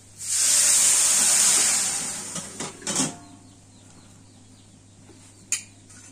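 Vegetables tipped into a hot pan of fried onions for a home-cooked lau and river prawn curry with mustard paste, giving a loud steamy hiss that swells for about two seconds, then fades, with a few clattering knocks afterward.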